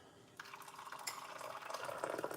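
Hot water pours into a medium-sized pot on the cooker: a soft splashing stream starts suddenly and fills steadily, growing slightly louder as it goes, with no talk over it.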